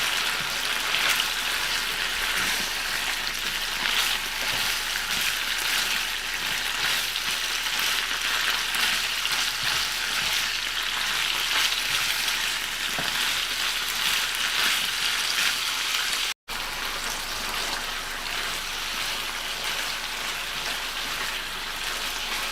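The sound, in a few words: carrot added to frying beef bulgogi in a pan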